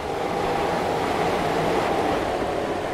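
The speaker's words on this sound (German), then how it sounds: "Ja, genießen wir erstmal die Vorbeifahrt in dieser S-Bahn hier." An S-Bahn commuter train rolling past in Transport Fever 2, a steady broad rumble and rush of wheels on rails at constant volume throughout, with no voices.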